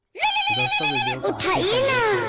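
A phone rings with a steady, melodic electronic ringtone that plays loudly and near, and a voice soon joins over it.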